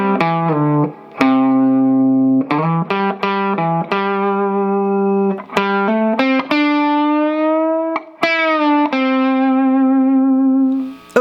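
An electric guitar runs through distortion and chorus effects, playing a continuous sustained melodic line of ringing notes with slides and pick attacks, loud and close with no talking.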